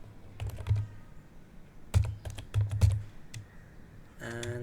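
Fingers tap out a short command on a computer keyboard, giving close, crisp key clicks in small bursts, then a brief electronic tone near the end, with no voices.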